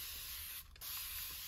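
A steady hiss of spraying, close and fairly quiet, with a brief pause partway through before it resumes.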